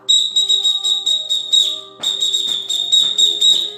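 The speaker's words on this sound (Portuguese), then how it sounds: "você pode entrar com apitos" Children marching in blow whistles, sounding a run of shrill, close, repeated blasts in quick bursts, a short pause, then another string of blasts, with no voices.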